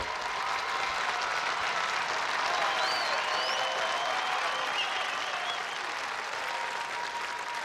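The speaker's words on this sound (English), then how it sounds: "she is getting a thunderous roar from this crowd" A studio crowd at an American Gladiators event cheers and applauds for a contender, a dense, loud, steady roar of clapping and shouting that fills the whole stretch.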